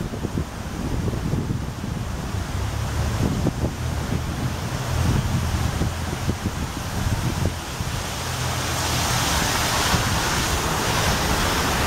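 Water of Arcadia Creek in Kalamazoo, Michigan, murmurs outdoors in winter under constant gusty wind buffeting the microphone, forming a continuous broadband rush with no speech.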